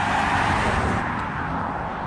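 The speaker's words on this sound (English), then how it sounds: "I'm stopping because I can hear a car." A car passing along a road, a broad steady roar that is loudest at the start and eases off slightly as it goes by, with no talk over it.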